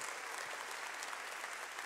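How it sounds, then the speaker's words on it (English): A church congregation claps in a steady, uniform wash of applause that fills the whole moment without a break. "Yeah, that's something to clap for."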